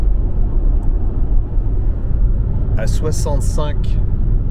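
Steady low road and wind rumble fills the cabin of a Renault Austral Mild Hybrid Advance cruising at 110 km/h, constant and moderately loud, with a brief voice speaking near the end.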